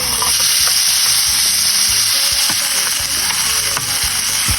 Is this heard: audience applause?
no